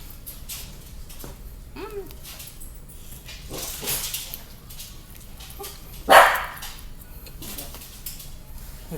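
A dog barks indoors in a home, giving several scattered barks and one louder, sharper bark near the end, mixed with faint household clatter and people talking nearby.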